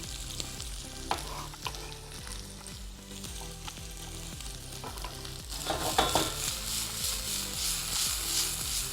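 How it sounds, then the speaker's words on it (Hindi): Capsicum, tomato and green onion stir-fry in a hot pan, giving a steady sizzle with repeated scraping and tossing strokes from a utensil, fairly close. "और इसको अच्छे से टॉस कर लेंगे ताकि थोड़े से ये हमारी जो वेजिटेबल हैं और अच्छी क्रंची हो जाए"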